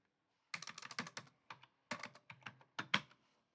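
Typing on a computer keyboard: quick clusters of crisp, close key clicks in three short bursts separated by brief pauses, quiet overall.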